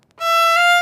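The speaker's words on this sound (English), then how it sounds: "I want you to stop in between each bow change" A single violin bow stroke starts abruptly after a brief silence and holds steady and bright, clean and close, with no voices.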